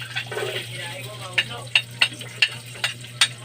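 Garlic frying in hot oil in a home kitchen while cooking karne norte guisado, with a steady sizzle and a series of sharp scraping stirs or pops, moderately close.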